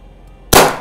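A single sharp gas blowback airsoft pistol shot, an FNX-45T style handgun, cracks out loud and close after a quiet moment, with a broad burst that decays quickly.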